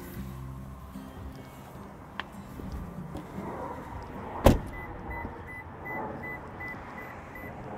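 Someone getting out of an army green 2020 Toyota Tundra TRD Pro CrewMax pickup: a quiet low rumble with a small click, then one sharp, close door thud midway, followed by faint shuffling.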